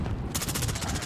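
Rapid automatic gunfire in Call of Duty: Modern Warfare, a loud, close stream of evenly spaced shots firing in quick succession, alone without talk.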